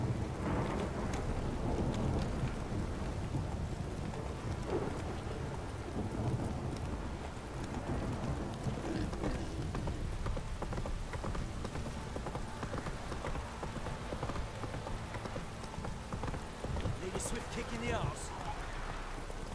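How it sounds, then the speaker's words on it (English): Heavy rain pouring down in The Witcher 3, a dense continuous wash of rainfall with rumbling thunder, hoofbeats from a horse and someone talking over it. "This downpour's a bastard it is."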